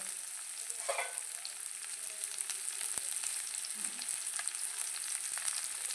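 Small onions and coconut pieces fry in a clay pot, giving a steady, soft crackling sizzle that runs evenly throughout with a few faint clicks and no voices.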